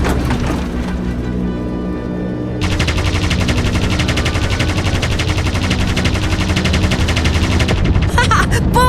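Rapid bursts of Vickers machine gun fire in a 1939-era air combat video game, a dense, loud rattle running almost continuously, with a lower rumble of engine drone beneath and a brief pause near the start.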